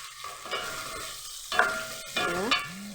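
Tomatoes are added to onions frying in a pan, bringing a rising hiss and sizzle along with scraping stirs and a couple of clattering utensil knocks, fairly close and free of talk.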